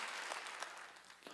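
Church congregation at a Korean Wednesday worship service claps briefly, a soft, distant wash of applause with a few sharper claps standing out.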